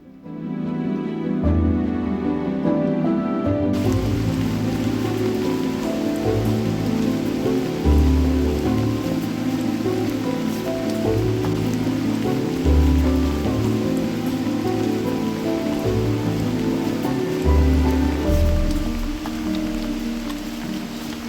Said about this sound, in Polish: jak się puścił deszcz, tak leje